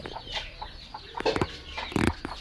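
Several chickens of assorted varieties cluck in short, repeated calls at a poultry farm, with a couple of louder, sharper squawks near the end, fairly close and without talk.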